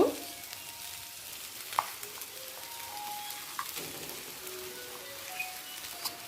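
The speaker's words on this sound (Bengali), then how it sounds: "পোস্তটা আলু ফুলকপির সাথে মিশিয়ে নিচ্ছি" Spoon stirring ground poppy seed paste into boiled potatoes and cauliflower in a pan, a faint steady wet scraping with soft sizzle and occasional light clicks of utensil on metal, no voices.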